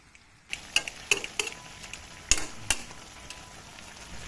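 Tilapia and eggplant adobong paksiw with long green chilies simmering in a pan, a soft steady sizzle broken by scattered clinks and scrapes of a utensil against the pan, with no voices.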